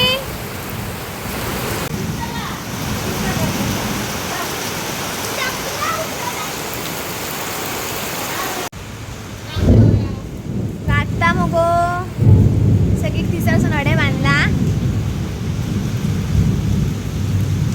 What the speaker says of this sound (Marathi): पाऊस इलो काय थंड गार वातावरण जाता